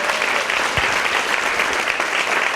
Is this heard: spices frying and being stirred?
no